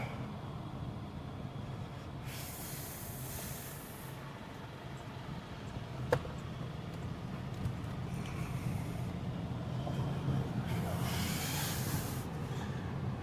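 A vehicle towing a Collins auto carrier dolly rolls over bumpy roads: a continuous interior rumble of road noise with rushing swells and one sharp knock from a bump.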